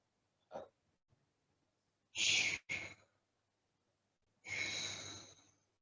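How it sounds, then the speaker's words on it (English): A person doing a HIIT workout breathes deeply in and out, with a short breath followed by two strong airy exhales and then another long drawn-out breath, close and fairly quiet against near silence. "Take deep breaths in and out."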